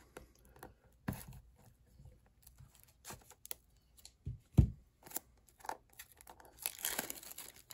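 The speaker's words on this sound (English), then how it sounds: "Got my handy dandy scissors here." Scissors snip and crinkle through foil Pokemon Twilight Masquerade booster packs, giving quiet scattered cuts and wrapper rustles with a few sharper snips, close and faint.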